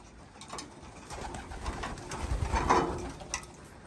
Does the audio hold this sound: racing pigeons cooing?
yes